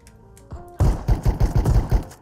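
Rapid burst of video game gunfire, a string of sharp loud shots in quick rhythm following a few quiet tonal beeps.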